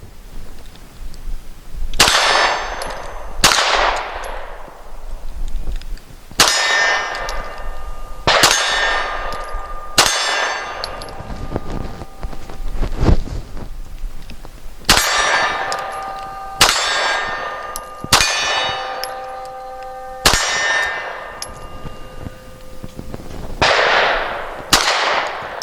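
Handgun shots ring out at a shooting range, each crack followed by a bright metallic clang as bullets strike steel targets, a dozen or so impacts in uneven bursts, loud and close with ringing tails.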